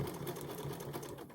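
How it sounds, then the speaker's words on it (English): A sewing machine runs steadily through cloth while stitching a fabric face mask, giving a close, continuous motor whir with a fast, even needle rhythm and no pauses. "stitch to the end, making sure that this is even to the side"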